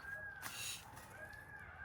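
A distant peacock calls out twice with a drawn-out nasal cry, faint against a quiet forest background.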